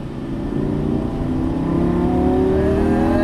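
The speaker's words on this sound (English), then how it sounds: "Now start to squeeze on the throttle as we unwind the wheel." A Lamborghini Gallardo Superleggera LP570-4 accelerates on a race track, its engine note climbing in a loud, steady, rising roar heard from inside the car for a few seconds.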